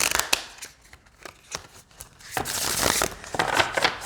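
Thick Starseed Oracle deck cards being shuffled by hand, quick papery riffles and slides in uneven bursts, close and fairly loud with no talking.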